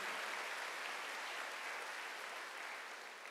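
A church congregation applauds at a Sunday worship service, a dense, steady wash of many hands clapping together that holds at an even loudness before easing slightly at the end.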